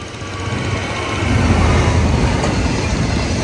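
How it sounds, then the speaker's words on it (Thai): A train rolls past on the rails, a loud, steady rumble with faint wheel clatter and a high metallic whine, building slightly toward the middle, no talk. "หัวขบวนนี่ยังใหม่อยู่เลย"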